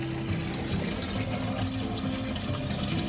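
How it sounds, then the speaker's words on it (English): Water pumping into a wood-fired hot tub, a steady close splashing and trickling stream with a faint mechanical hum underneath, constant and uninterrupted. "water's pumping."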